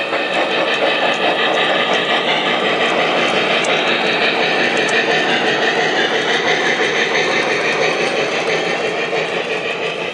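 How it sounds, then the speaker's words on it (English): A model train clatters steadily along its layout track with a dense, whirring mechanical hum, constant and fairly loud for the whole stretch, with no voices. "As the passenger train heads to its destination"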